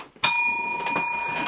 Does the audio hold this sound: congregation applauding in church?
no